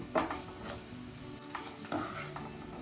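Garlic frying in a seasoning pan for a coconut and chana dal curry, a soft steady sizzle with occasional spoon stirs against the pan, quiet and close, no talking.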